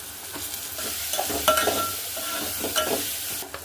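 Spice paste of ginger, garlic and green chilli with turmeric, salt and tomato stirred and frying in a pan for pumpkin curry: steady sizzle with repeated scraping stir strokes close up, no talking.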